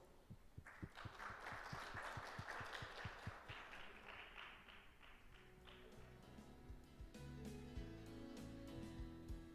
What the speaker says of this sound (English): please welcome Mr. Jason Alfred with a big round of applause